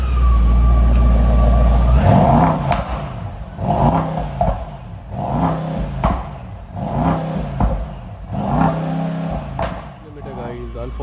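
Car engine blipped repeatedly in Sport Plus mode, about five rhythmic revs rising and falling in quick succession, loud and close, after a brief idle hum at the start.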